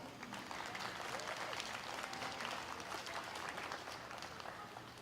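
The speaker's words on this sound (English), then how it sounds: "they deserve a big round of applause" Audience applause at a county fair 4-H/FFA beef cattle showmanship event, a steady, even round of clapping from a crowd in a show arena, heard faint and distant for five seconds.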